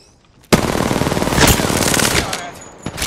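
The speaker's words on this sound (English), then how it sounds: "Opening fire" Automatic gunfire in Apex Legends erupts suddenly after a quiet moment, a loud rapid burst of shots that continues for over two seconds before tapering into a few scattered cracks.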